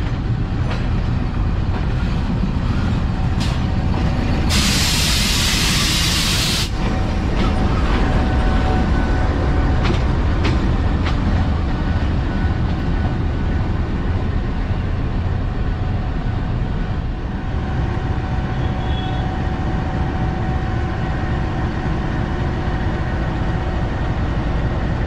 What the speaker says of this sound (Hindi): ले जी लोको आ गया 4562 G20, अब ये अटैच होगा ये हमारी ट्रेन के साथ।